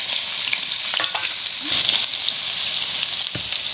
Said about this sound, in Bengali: তেল গরম হয়ে গেছে, এবার দিয়ে দেব কেটে রাখা আলু